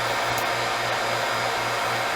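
A vacuum pump runs loud and close with a steady whirring hiss and a faint pulsing low hum throughout.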